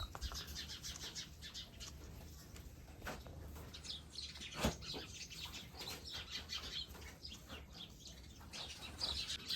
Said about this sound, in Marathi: पक्षी खेळतं ते का भांडणं करतं ते काय माहीत.